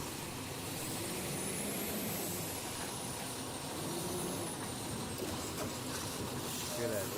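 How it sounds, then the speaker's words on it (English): A garbage truck engine revs hard with steady, loud, broadband mechanical roar, holding at a rough, aggressive pitch throughout without a clear pause. "Hear that revving, you hear the aggressiveness."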